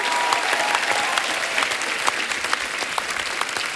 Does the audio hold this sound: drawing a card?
no